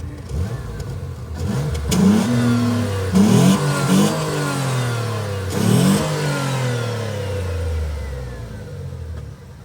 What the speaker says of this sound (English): we can rev it a little bit